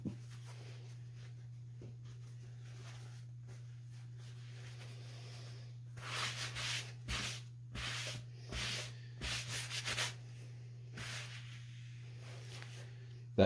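Cloth wiping paint off a polyurethane-coated wooden cutting board, quiet rubbing strokes that grow louder in short bursts partway through, over a steady low hum.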